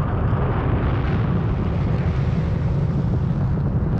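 A rocket launch on a moon mission after a countdown, a loud, continuous, broadband roar that holds steady and dense throughout, with no voices.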